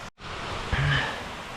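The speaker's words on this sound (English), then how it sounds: "It is a waterfall." A waterfall in the video game Bonnet: Joy Without Pride gives a steady broadband rush of falling water, briefly cut out for an instant near the start, with a faint tonal chime over the wash.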